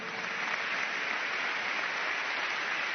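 An audience keeps up sustained applause for fighter pilots, an even, continuous roar of many hands clapping with no voices over it.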